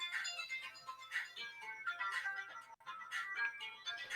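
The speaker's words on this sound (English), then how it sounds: "Somebody's phone? Somebody's music." Music playing faintly from a phone lying on a bed, a thin, tinny melody with repeating bright tones, distant and low in level.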